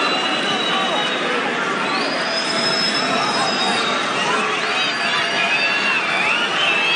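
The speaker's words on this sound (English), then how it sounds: "Boos and jeers of the crowd" A boxing arena crowd boos and jeers through the Mayweather vs Maidana rematch, a dense, loud, steady roar filling the whole stretch without letting up.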